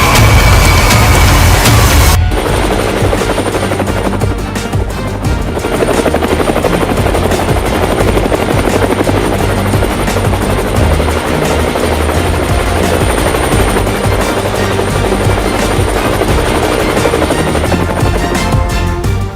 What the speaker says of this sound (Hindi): और अब मैं मौजूद हूँ लाइट कॉम्बैट हेलीकॉप्टर के पास।